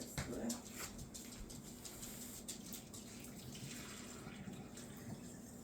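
Water poured out of a pot splashes and runs into a sink, a steady gurgling pour with a few brief clinks near the start, fairly quiet.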